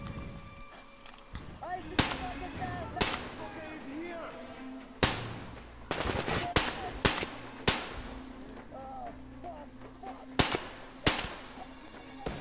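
Shotgun fire in Metro Exodus, about eight sharp broadband blasts at irregular intervals with ambient game sounds and voices between them.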